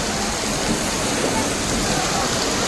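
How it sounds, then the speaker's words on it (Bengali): Heavy rain pours down at Bardhaman railway station in a continuous, loud, even hiss with no breaks or audible talk. "প্রচণ্ড বৃষ্টি হচ্ছে, প্রচণ্ড।"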